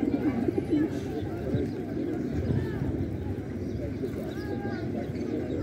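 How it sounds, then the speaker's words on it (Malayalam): Pigeons being fed outdoors in Valletta, Malta. Soft cooing and scattered chirps rise over a busy background murmur of ambient noise. "മാൾട്ടയിലെ വലാറ്റയിൽ പ്രാവുകൾക്ക് ഫുഡ് കൊടുക്കുന്നതാണിത്."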